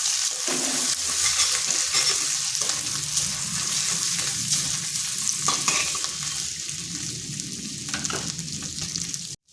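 Ginger and turmeric frying in oil in a pan for a vegetarian potato-tomato dum, giving a steady, close, dense sizzle that holds evenly throughout with faint stirring scrapes, no voices.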